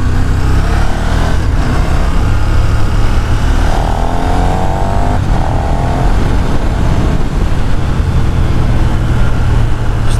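A 2021 KTM 1290 Super Duke R is ridden along a small road, its engine a loud, steady drone with a brief rise in pitch partway through, heavy wind rush throughout, no voices.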